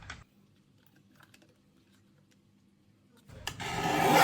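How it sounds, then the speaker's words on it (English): Guillotine paper trimmer slicing transparent sticker paper: a brief snap at the start, then quiet faint scraping and tapping, and a rising sharp swish of the blade cutting through the sheet at the end. "I like using the guillotine because it's A, quicker, and B, it also just makes it a little bit straighter"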